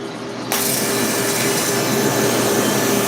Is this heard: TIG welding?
yes